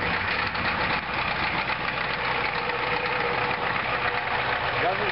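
A diesel engine with a DB2 injection pump, running cold with a timing advance problem, held at light throttle; a steady, loud, close rumble with a rough knocking texture throughout.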